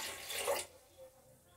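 Water pours into a cooking pot while a traditional kulthi (horse gram) dal is made at home, a brief bright gushing splash that stops abruptly and leaves a quiet room.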